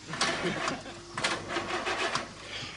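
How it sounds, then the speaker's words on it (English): A car engine cranks repeatedly and fails to catch, a rhythmic whirring starter churn under talking voices, moderately close. "I'll try the engine."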